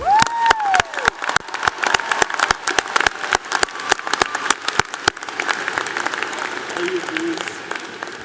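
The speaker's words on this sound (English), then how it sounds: "A round of applause for yourselves." Graduates at a 2019 university arts and sciences commencement ceremony clap and cheer, a dense, loud round of applause that rises quickly and carries on for several seconds before thinning out, with voices mixed into the crowd.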